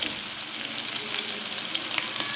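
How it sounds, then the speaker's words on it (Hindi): Garlic frying in a pan for kebab preparation, a steady bright sizzle of hot oil with faint crackles, close and continuous throughout the short stretch, no voices. "अब इसमें लहसुन शामिल करूँगी। इसको थोड़ा फ्राई करेंगे।"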